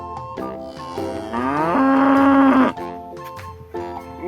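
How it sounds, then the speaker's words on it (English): A black-and-white farm cow gives a loud, close moo that swells into a long, sustained bellow in the middle, framed by shorter lowing calls before and after, with no talking. "This is cow. Farm animal cow. Black and white color cow."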